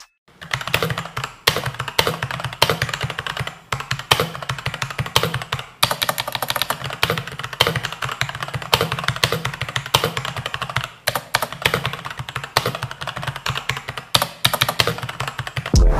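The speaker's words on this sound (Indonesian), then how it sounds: "Ini dia suaranya saat ngetik gak?" Rapid, continuous clicking of keys on a computer keyboard, steady typing with brief pauses, close and clear, no voices.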